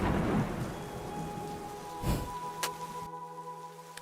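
Steady rain falls on surfaces while thunder rumbles. A sharp thunderclap hits near the middle, then the downpour continues at a softer, even hiss.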